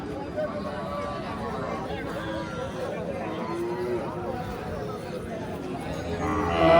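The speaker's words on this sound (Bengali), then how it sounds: "সাইবাল জাতের অনেক সুন্দর একটি বাছুর।" Sahiwal-breed calves and local cattle low at a busy outdoor cattle market, the moos mixed into a constant crowd din and people bargaining nearby, with the noise swelling louder near the end.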